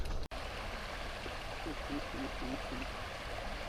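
A small creek flowing, a steady broad trickling wash of water close by, with a brief dropout near the start and a faint tonal sound in the middle.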